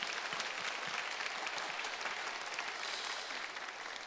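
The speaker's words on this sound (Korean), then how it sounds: "하여튼 모두에게 감사의 박수 한번 돌리겠습니다" Church congregation applauding the musicians and a small ensemble after an Easter service performance, a steady wash of moderately distant clapping that holds evenly and thins slightly at the end.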